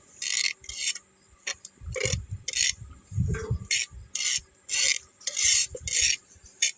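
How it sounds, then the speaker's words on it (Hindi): Nigella seeds (kalonji) roast in a dry pan, heard as rhythmic scraping strokes of a spoon across the metal, repeated in short bursts roughly every half second, close and fairly quiet. "अब भून रही हूँ कलौंजी"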